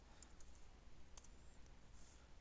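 Quiet typing on a computer keyboard during Rhino 3D modelling work, a few light, sparse clicks scattered over a low steady room hiss.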